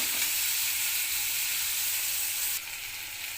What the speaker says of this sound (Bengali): আমি চিংড়ি মাছগুলো ভেজে নিচ্ছি।